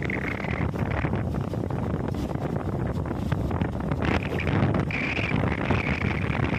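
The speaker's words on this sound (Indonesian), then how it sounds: "Angin semakin kencang." Strong wind buffets the microphone on a boat at sea, a steady loud roar with gusting rumble and faint wave wash beneath, continuous throughout with no talk.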